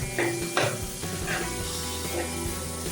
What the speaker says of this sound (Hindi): हल्की आंच पे ना आपने इसको इस तरह मिक्स करके रहना